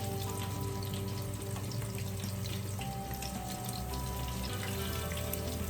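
Pan-ready catfish coated in cornmeal frying in a pan of oil, giving a loud continuous crackling sizzle with a faint steady hum underneath, no talk.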